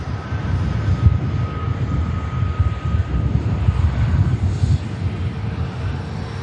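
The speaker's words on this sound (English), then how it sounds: "hopefully we'll get a walkie from this Air France. Should make the rapid exit, touching down at that rate of knots." An Air France airliner touching down at Manchester Airport, a steady low engine roar with wind buffeting the microphone, heard from a distance and continuous throughout, no talking.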